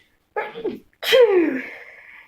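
A single close, loud sneeze: a short sharp intake followed by the explosive burst trailing off.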